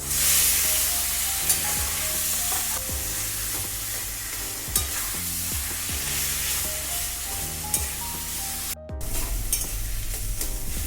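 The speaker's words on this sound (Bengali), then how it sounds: "এবার আমি এতে কচু শাকটা দিয়ে দেবো" Taro leaves fry in a pan of cooked spice paste for a vegetarian dish, giving a steady sizzle under repeated scraping stirs and clacks of a spoon against the pan.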